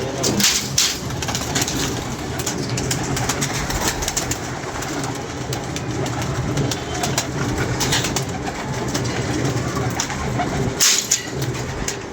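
Pigeons coo steadily and close by, their soft throaty calls overlapping continuously with rustling and fluttering noises throughout.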